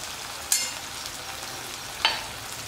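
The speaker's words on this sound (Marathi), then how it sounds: "टमाटर व्यवस्थित तेलात परतून झाल्यानंतर त्यात एक चमचा लाल मिरची पावडर" Tomatoes frying in oil with red chili powder in a pan, giving a steady close sizzle broken by two sharp stirring clicks.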